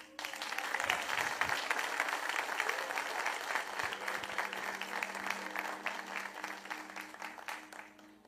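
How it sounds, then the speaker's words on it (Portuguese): A church congregation applauds continuously, dense clapping holding steady for several seconds before easing slightly. "Quer aplaudir? Fique à vontade."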